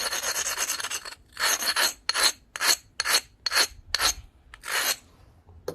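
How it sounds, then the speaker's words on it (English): The back side of an opalized glass knife blade being abraded: a continuous scrape, then about eight separate rasping strokes in an uneven rhythm, close and distinct with no voices. "I'm abrading the back side"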